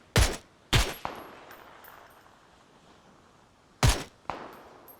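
Gunfire in the PUBG battle royale game: four sharp, loud shots in two pairs, with a quiet stretch between them and short ringing tails after each report.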